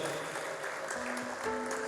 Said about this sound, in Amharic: ጨምራችሁ ለጌታ እልልታ ጭብጨባ አምጡለት